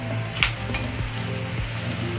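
Rui fish and eggplant sautéing in oil for a Bengali tel chochori, a steady close sizzle and crackle with a few soft clinks of a utensil against the pan.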